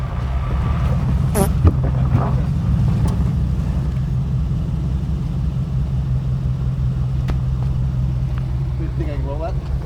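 An off-road vehicle crawls over rocks on a trail, its engine rumbling steadily and low throughout, with occasional faint creaks and scrapes and voices talking intermittently over it.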